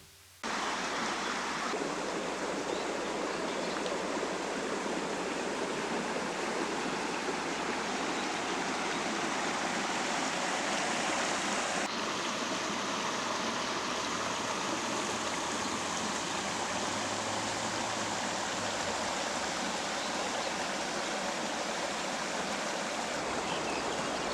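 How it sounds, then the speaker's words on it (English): Beauty Creek flows behind a forest campsite, a steady rushing wash of water that is continuous and moderately loud, with no voices over it. "Beauty Creek ran right behind our campsite."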